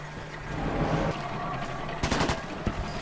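Gunfire in the co-op shooter Sniper Elite 4: a quick cluster of sharp shots, then a single later crack, punching over a low rumbling game soundscape with no talking.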